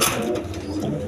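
A healthy pigeon kept with its chick gives a short, soft cooing call, close and fairly clear, with no talking over it.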